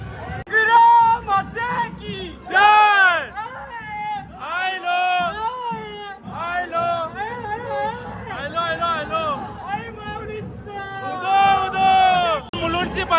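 A crowded temple queue at the Ekvira palkhi festival at Apti Koliwada, with a continuous babble of many voices and chatter close by. Individual voices rise above the murmur throughout.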